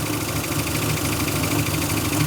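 A long-dormant Dodge Monaco engine idles steadily just after its first start in years, a loud, continuous mid-low rumble with a rapid ticking lifter clatter and a slight uneven misfire pulse running through it.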